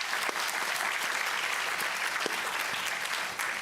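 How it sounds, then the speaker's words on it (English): Audience applause at a symposium on diversity and inclusion: dense, steady clapping from a crowd that holds at an even level for the full stretch, moderately quiet and without any voices over it. "So give a round of applause to Malaysia."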